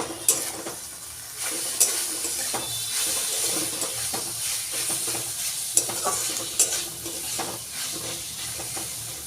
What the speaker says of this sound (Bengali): এরকম কড়াইশুঁটি পেঁয়াজের সঙ্গে একটু ভেজে নিচ্ছি।